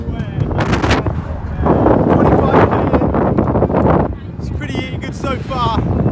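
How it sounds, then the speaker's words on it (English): Heavy wind buffeting a microphone on a bike ride, a loud, continuous roaring rumble that swells and fades, with someone talking over it in places. "Windy update on the bike ride."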